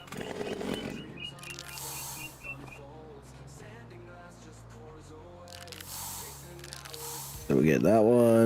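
Pink marking spray hissing onto trees in Farming Simulator 25, with short spray bursts at the start and again near the end over a low steady engine-like drone and faint game sounds.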